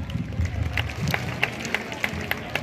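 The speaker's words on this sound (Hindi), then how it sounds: "तालियां बजा दीजिए बच्चों के लिए" A school audience at a students' cultural programme claps for the children's project, a faint, scattered patter of hands with a few sharper claps, set against a low murmur of background voices.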